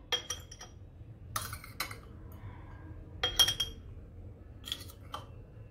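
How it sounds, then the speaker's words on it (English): Glass jars clink sharply as spoonfuls of poha are tipped into them, several bright, separate taps spaced over a few seconds against a quiet background. "fill these two jars with a few spoons of this poha right here"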